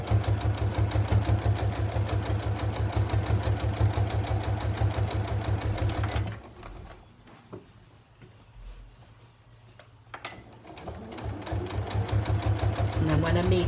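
A sewing machine runs steadily while stitching the seam of a fabric storage caddy, loud and continuous, stops for a few seconds of near quiet, then starts up again with a fast, even motor whir.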